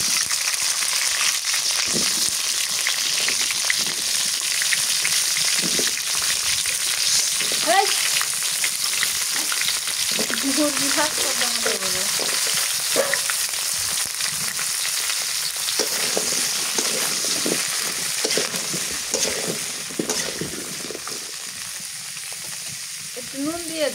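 Cauliflower fries with black cumin in a hot pan, a loud continuous sizzle with scraping stirs throughout, while faint voices murmur underneath.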